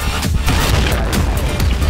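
Dense, continuous booming and crackling of explosions in the game Point Blank, loud and chaotic throughout with no pause.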